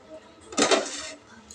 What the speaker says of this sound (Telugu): మూత తెడుద్దాం.